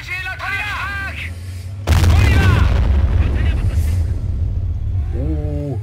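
Tank cannon fire and explosions in Company of Heroes, a sudden heavy blast with rumbling after it, while game voice lines chatter before and after.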